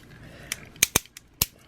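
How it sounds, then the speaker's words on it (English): Sharp plastic clicks from a part being pushed into an Nx Edgestyle Nightingale action figure, about four or five quick, close snaps spaced irregularly with quiet between. "why is it making a clicking noise?"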